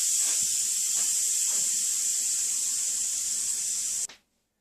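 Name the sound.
steam venting from an Instant Pot while depressurizing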